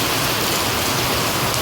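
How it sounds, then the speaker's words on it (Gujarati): Steady rain pours down in a village where cows sit sheltered, a dense, even hiss of drops hitting the ground that stays constant and close with no voices over it. "એમ તો વરસાદ ચાલુ છે"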